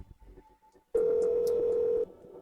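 A single steady telephone tone starts abruptly, holds for about a second, then cuts off, after faint background murmur.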